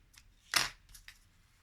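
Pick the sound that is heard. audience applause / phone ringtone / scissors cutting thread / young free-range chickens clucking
scissors cutting thread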